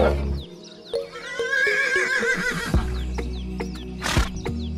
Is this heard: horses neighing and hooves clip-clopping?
yes